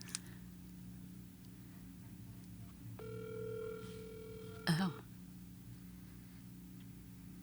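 Telephone ringback tone on an outgoing call goes unanswered, a steady electronic ring of about two seconds heard faintly over background hum, with a brief spoken exclamation at its end.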